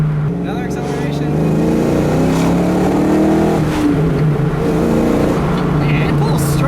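A 1992 Ford Mustang GT accelerates hard, its engine note rising steadily and droning loudly from close by with continuous cabin noise throughout.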